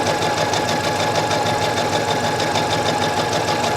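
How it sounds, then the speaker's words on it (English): A sewing machine runs a straight seam while making a French seam, a loud, close, continuous mechanical whir with a fast rapid pulse throughout. "And then you just sew a straight"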